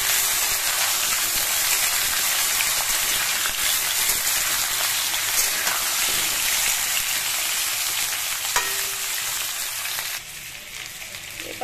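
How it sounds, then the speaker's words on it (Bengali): Potatoes and yams frying in a pan, a steady close sizzle and crackle that runs without a break and drops slightly in level near the end, with no voices over it. "এটা আস্তে আস্তে ভাজা হতে থাক সবজিটা"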